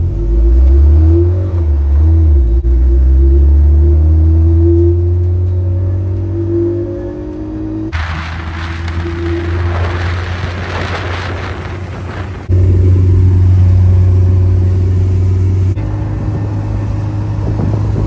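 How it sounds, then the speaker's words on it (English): A vintage MGB car engine runs on choke with a loud, steady low idle rumble that shifts in pitch and roughness and surges sharply a few times, heard up close from inside the car. "we're going to go off in the vintage, the MGB. Right, we're recording. Yeah, I'm on choke at the moment."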